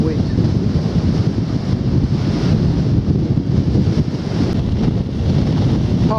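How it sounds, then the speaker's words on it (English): Strong wind buffets the microphone on an open beach at Snettisham, a steady roaring rumble with a hiss of surf beneath, loud and unbroken throughout. "The trouble is the wind's against me"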